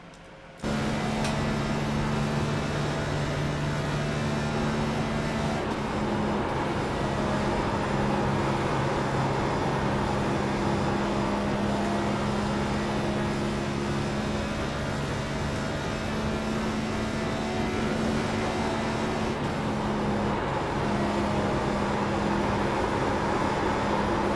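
A NextGen stock car circling Las Vegas in iRacing, its engine droning loud and sustained for the whole run, with steady tones shifting slightly as it rounds the track.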